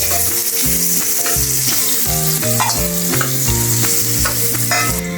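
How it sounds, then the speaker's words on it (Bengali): Chopped garlic and chili fry in leftover oil from frying crab, giving a steady, dense sizzle with no pauses, close and loud, while background music plays along. "ভাজা হচ্ছে।"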